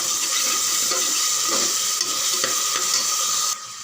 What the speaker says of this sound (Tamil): நல்லா வதங்கிட்டு